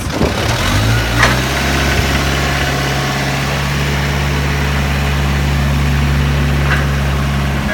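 A forklift engine runs close and loud, rising briefly in a short rev before settling into a steady rumbling idle with a deep droning tone.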